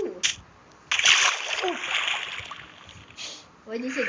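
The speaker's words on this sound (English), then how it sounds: "I kind of fell in the water" A video game character drops into water with a splashy crash, followed by sloshing and a second splash, amid game audio and players' voices talking around it.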